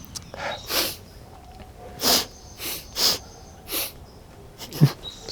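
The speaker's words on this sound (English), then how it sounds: "Sniffle battle." Close, repeated sniffles in a series of short, breathy bursts spaced roughly half a second to a second apart, with one sharper snort-like sniff near the end; no talking.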